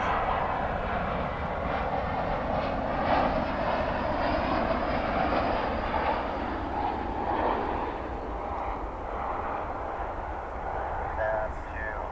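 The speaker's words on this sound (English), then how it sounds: "pick up a flight coming in from Phoenix, American Flight 431." An American Airlines jet arriving from Phoenix at DFW Airport produces a steady, broad engine roar that swells slightly and holds at moderate distance, with a faint voice underneath.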